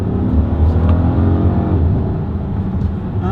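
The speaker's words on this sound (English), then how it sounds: "spinning the tires a little bit." A 2018 Volkswagen Passat GT pulls away hard in sport mode with its tires spinning briefly, giving a loud, steady engine roar heard from close by throughout, with no speech.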